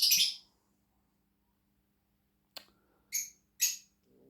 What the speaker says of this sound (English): I'm just going to have to carry on with the bird chirping